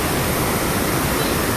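Steady, loud roar of a waterfall, the Cachoeira do Acaba Vida, with dense broadband rushing water filling the short stretch alone and no voices.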